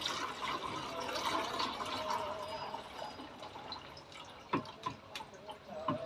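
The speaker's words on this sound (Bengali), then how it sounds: "এই জলটাকে আমি এখন একটা ছাঁকনি দিয়ে ছেঁকে নেব" Water from soaked garlic peels is strained through a sieve, giving a soft, continuous trickle with several distinct, splashy drips toward the end. The sound is fairly faint and close.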